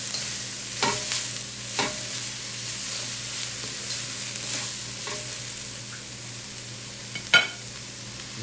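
Napa cabbage sizzles in a wok for lo mein, a soft, steady frying hiss with a few clanks and scrapes of stirring, close and fairly quiet, with no voices.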